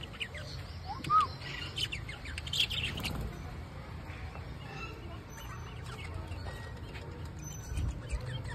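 Assorted birds, including parrots, chirp and squawk in short, scattered calls in a park aviary over a low background hum, some close and some farther off.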